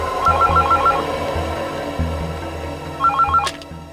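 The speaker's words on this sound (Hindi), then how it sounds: "ये किसका फोन आ गया?" Telephone ringing indoors in a TV crime drama scene, two bursts of a trilling electronic ring separated by a pause, clear and close over low background noise.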